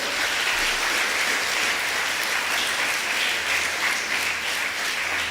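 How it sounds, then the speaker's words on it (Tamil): Sustained audience applause at a Tamil public talk by a former police officer, dense steady clapping from a large crowd filling the whole stretch without pause. "இனிமேல் தான் கிளைமேக்ஸை இப்போவே கைத்தட்டிட்டீங்களே"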